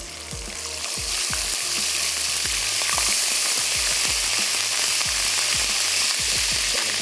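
Garlic sizzles and fries in a pan for a fish gravy, a steady crackling hiss with occasional stirring knocks, close and even throughout.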